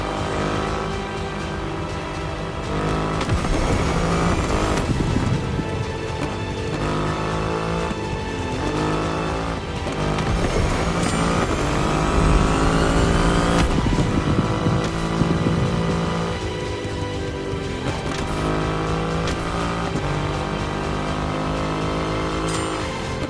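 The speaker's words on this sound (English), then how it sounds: "An extreme motorcycle with a huge presence. A Triumph bike through and through." Triumph motorcycle engine in the racing game The Crew Motorfest, an extreme bike with a large-displacement engine, roaring loudly and continuously with repeated rising revs and gear shifts over its whole length, with no talk.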